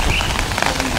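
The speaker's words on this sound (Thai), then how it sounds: "วันนี้ตอนนี้ฝนตกลงมาแล้ว" Rain falls steadily in a dense, even patter on nearby surfaces, close and fairly loud throughout.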